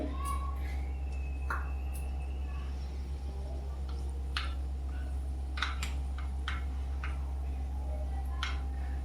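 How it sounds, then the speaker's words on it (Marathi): Mustard seeds crackle in hot oil: sparse, sharp pops and crackles scattered irregularly over a steady low hum, close by and fairly quiet. "मी फोडणीसाठी राई टाकते"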